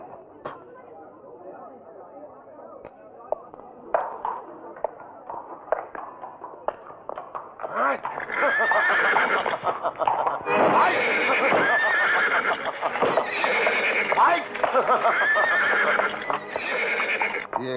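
A young donkey brays and whinnies loudly, the calls swelling and continuing over several seconds, with people talking in the background and some tapping sounds.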